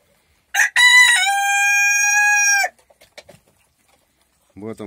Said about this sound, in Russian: Утки, петухи помогают.